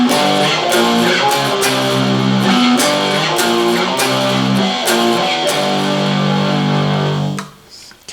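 Distorted electric guitar plays a power-chord rock riff in G, loud and close, with rhythmic chord stabs repeating before stopping abruptly near the end.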